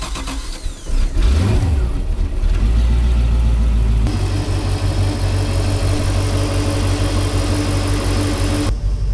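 The engine of a 2007 Malibu Wakesetter 23 LSV boat cranks, catches, revs briefly and then settles into a steady, loud, close idle that runs until it cuts off near the end.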